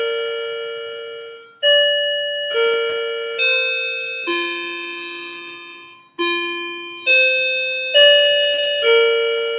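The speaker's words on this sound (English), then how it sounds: "Well, then you can hear the chimes." Door chimes ring out a melodic sequence of bright, bell-like tones, each struck note ringing and fading before the next, with a brief pause partway through; no voices.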